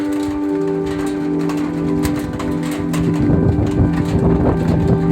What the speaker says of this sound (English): the rain has come in much heavier